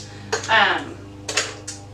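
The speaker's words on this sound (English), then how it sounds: "You can hear that snap." Dried beef liver pieces snapping and clattering in a kitchen, two or three sharp cracking bursts close by with a brief rustle between, loud against a quiet room.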